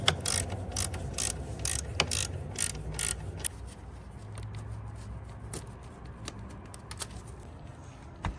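Ratchet turning a 13 mm socket on a nut on the alternator stud of a 2014-2019 C7 Corvette, rapid clicking bursts near and loud early, then quieter intermittent clicks and handling noises.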